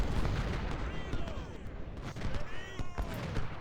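Artillery cannon fire booms from a Civil War battle in the strategy game Ultimate General: Civil War, with repeated dull thuds and crackling volleys rolling under a busy battlefield din, moderately distant and layered.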